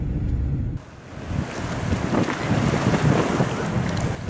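Strong wind buffets the microphone at a beach on the Greek island of Naxos, a loud, gusting rush with the wash of surf beneath it, no voices heard.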